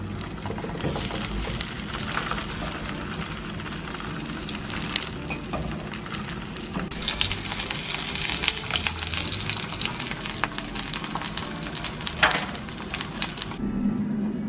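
Sausages fry in a little oil for hot dogs, a continuous crackling sizzle with bursts of spitting, growing busier and brighter toward the end.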